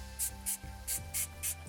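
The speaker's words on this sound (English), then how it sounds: "spray on a bit of their Midnite Train Leave-In Conditioner" Uncle Funky's Daughter Midnite Train leave-in conditioner sprayed onto curly hair in five short, close hissing bursts, each about a fifth of a second, with a low hum underneath.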